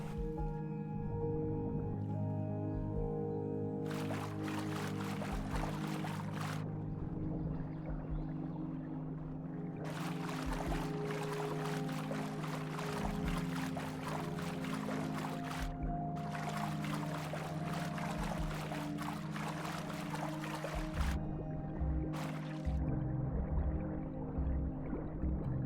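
A baby Beipi dinosaur swims slowly through shallow swamp water in The Isle. Watery splashing strokes come in long bursts over a constant low ambient hum, with no speech.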